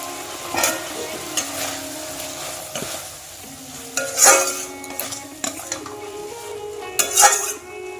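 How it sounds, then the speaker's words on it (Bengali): Prawns (golda chingri) for a coconut-milk malai curry go into hot masala in a pan, giving a steady close sizzle broken by sharp metallic clinks and scrapes of a spatula stirring against the pan. "আমি এর মধ্যে এখন একটা একটা করে চিংড়ি মাছগুলো ছেড়ে দিই।"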